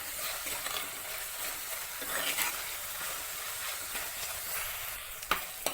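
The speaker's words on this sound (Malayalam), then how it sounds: "കറിവേപ്പില കുറച്ച് ചേർത്തിട്ട് ഒന്ന് വഴറ്റി കൊടുക്കാം" Curry leaves with green chillies, ginger, garlic and shallots sauté in a pan for a Kerala karimeen fish curry, a soft steady frying hiss with faint occasional stirs and a small clink near the end.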